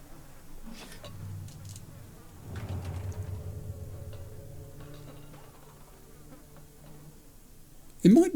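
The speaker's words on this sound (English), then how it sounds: "It might be flies. It could be flies. I can hear buzzing." Flies buzzing in the video game The Last of Us Part 2, a faint, wavering drone that swells and fades, capped by a short, sharper burst near the end.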